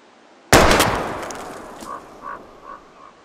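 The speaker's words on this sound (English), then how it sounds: "We're gonna shoot all these bottles without wasting a single bullet" A single sharp gunshot rings out at bottles in Life is Strange, loud and close, with a ringing echo decaying over a couple of seconds and faint clinks trailing after.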